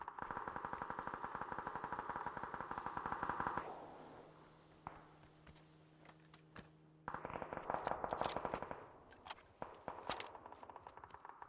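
Rapid bursts of automatic gunfire in PUBG come in two long, loud volleys, with a quieter gap between them and a few scattered single shots.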